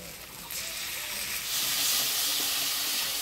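Potatoes being fried with turmeric, salt, ginger-cumin paste and chilli paste in a pan give a steady close sizzle and hiss that swells louder halfway through, with no talking.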